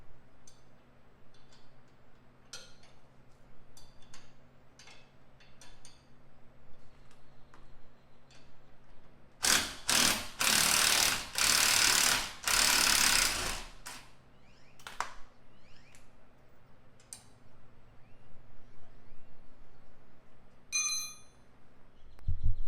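Impact wrench driving an 18 mm nut on a Jeep Wrangler suspension, a loud continuous burst of roughly four seconds partway through, between quieter clicks and workshop handling noises.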